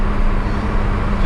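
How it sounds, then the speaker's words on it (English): A Toyota Supra fitted with an AWE exhaust drives along, giving a short burst of deep, steady engine and exhaust drone heard from inside or close by. "So the AWE, I love it because it adds the deep tone"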